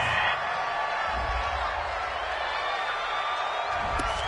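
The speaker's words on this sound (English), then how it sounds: "This home crowd, they're happy with that call." A home crowd in an American football video game, Cowboys versus Vikings, roars steadily after a pass interference call, a sustained wash of cheering with a few sharp shouts toward the end.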